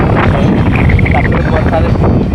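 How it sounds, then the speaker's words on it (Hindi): Cool morning wind buffets a handheld microphone on a cloudy, rainy Independence Day outing in India. The roar is steady, loud and close, and faint tonal sounds come through beneath it. "ठंडी ठंडी हवा चल रही है"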